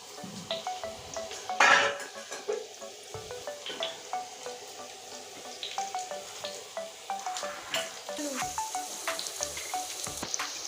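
Potatoes being flipped in a frying pan while cooking chicken curry, a steady sizzle of frying oil with repeated light clinks and scrapes of a utensil against the pan, close and moderately loud, with no talk.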